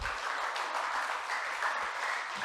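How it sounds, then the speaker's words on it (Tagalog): A church congregation claps together in a steady, dense round of applause during a worship sermon, loud and continuous with no talking over it. "Pumalakpak yung may natututunan po ngayon."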